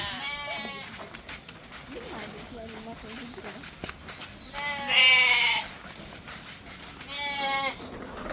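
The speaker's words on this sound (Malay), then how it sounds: "Dua kambing, dua biri-biri." Goats and sheep bleat on a village farm in several separate calls spread across the stretch. Some are close and loud and some are fainter, with a few footsteps between them.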